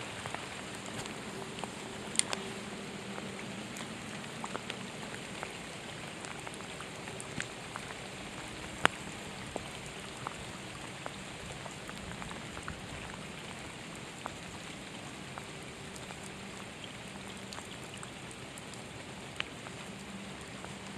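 Steady rain falls outdoors during a bass fishing trip, a continuous even hiss with scattered sharper drops tapping nearby surfaces, no voices heard.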